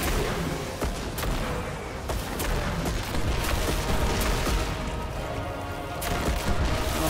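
A new weapon fires in Destiny 2, with sharp gunshots spaced irregularly over a steady loud backdrop of booming game noise. The shots are fairly close and there is no talk.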